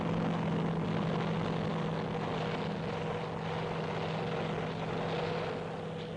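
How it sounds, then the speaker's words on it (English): A Huey helicopter coming in under heavy fire in Vietnam, a continuous loud rotor and engine drone holding steady throughout with no speech. "Well up again, the Huey coming in."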